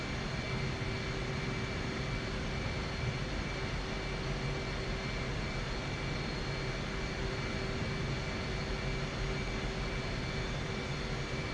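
An F/A-18C jet engine hums steadily as the aircraft taxis in the DCS flight simulator, a continuous droning roar with a faint whine and no talking.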